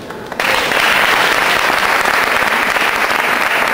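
Loud, dense applause from an audience at a gathering celebrating fifteen years of the youth club Circolo Allende, bursting in after a brief quiet moment and holding steady throughout.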